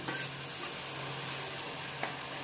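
Chopped onions fry in a pan for a cauliflower curry, giving a steady, close sizzle with a faint low hum beneath and a few soft stirring knocks.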